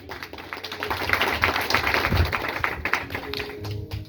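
Church gathering audience clapping, a dense, uneven patter of many hands rising and continuing for several seconds at moderate distance, with a few heavier thuds.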